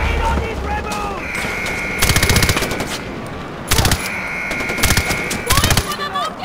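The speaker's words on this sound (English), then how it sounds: "Where's that gunfire coming from?" Bursts of automatic machine gun fire in Far Cry 4, several rapid rattling volleys spaced a second or two apart over steady battle ambience, with a sustained tone and shouted voices in between.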